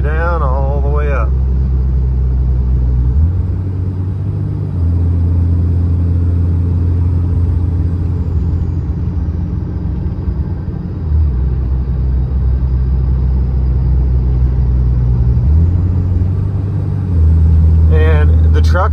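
A third-generation Cummins diesel pickup truck drives along a road with a steady, loud engine rumble that shifts pitch several times as it changes gears, while people talk inside the cab.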